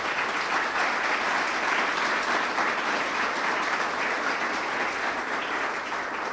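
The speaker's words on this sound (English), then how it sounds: "Dr. Keisha Campbell, give her a round of applause" A large audience at a mayoral State of the City address in Elmhurst gives a sustained, even round of applause, a thick wash of clapping that holds steady throughout.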